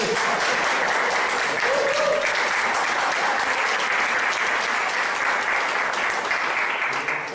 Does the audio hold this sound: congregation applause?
yes